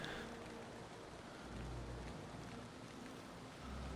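Rain falling in the Black Forest of the Valheim game, a faint, steady hiss with a low rumbling undertone and no clear breaks.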